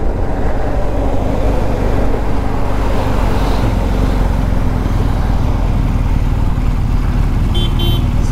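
A BMW R 1250 GS boxer twin adventure motorcycle being ridden, its engine droning steadily and loudly throughout under heavy wind and road rush, with no talk.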